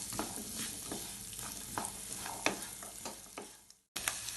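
Onions sauté in a pan for restaurant-style nawabi paneer, a close, steady sizzle broken by repeated stirring scrapes, then a brief gap of near silence before the frying resumes.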